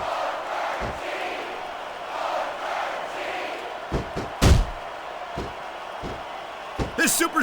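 A capacity arena crowd roars through a wrestling match between two wrestlers at WWE Judgment Day 2005, a constant cheering wash under commentators' voices, broken by loud thuds and slams from the ring.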